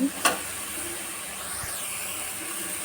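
Fenugreek leaves sizzle in a frying pan as a steady, close hiss, with a sharp clatter near the start and a low bump midway.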